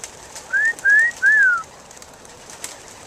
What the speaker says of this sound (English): Let the birds out.